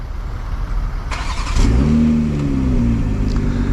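A 2024 BMW M340i with dual exhaust starts remotely: a brief starter whir, then the engine catches with a rising rev flare and eases into a steady idle, heard up close with no talk.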